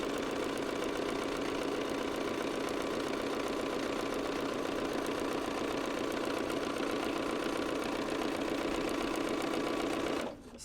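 Sewing machine stitching a paper pieced quilt block for a flying geese table runner, a continuous rapid mechanical chatter running steadily and evenly at moderate volume before stopping abruptly near the end, with no talk.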